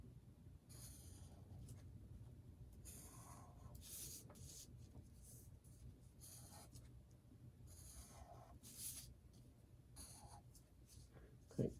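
A pencil scratches across paper while sketching a colonial-style house, in quiet, repeated short strokes with soft pauses and no talking.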